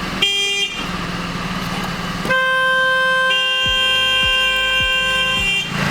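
Several car horns blare loudly in sequence, each a steady tonal honk, with the last few blasts overlapping, at a shop fitting horns to a Kia K5 during a chrome delete.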